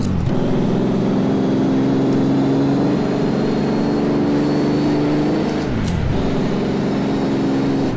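A motorcycle engine in the GPBikes racing game held at high revs, a loud steady buzzing whine that holds pitch, dips sharply for a moment, then climbs back to a sustained scream, with no talking.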